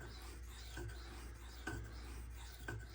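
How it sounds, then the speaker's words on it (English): A Spyderco Sage 5 knife blade is rubbed on a silicon carbide stone in faint, rhythmic rasping strokes about once a second, close and quiet over a steady low hum. "when you're sharpening with this steel, don't be afraid of pressure"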